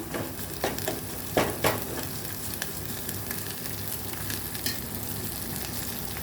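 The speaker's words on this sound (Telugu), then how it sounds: "ఆయిల్లో ఫ్రై అవుతుందండి" Goat tripe (azarkhana) frying in hot oil gives a steady, dense sizzle with a few scraping stirs near the start, close and continuous with no talking.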